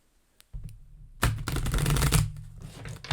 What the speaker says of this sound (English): Oof, that was a bad shuffle.